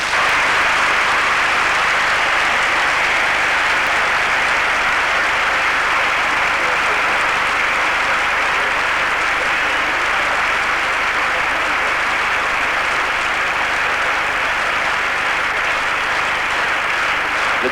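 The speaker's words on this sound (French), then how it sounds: "Le Danemark est très applaudi" Sustained, dense applause fills a large hall for Denmark's entry at the 1979 Eurovision Song Contest, continuous and even throughout with no break.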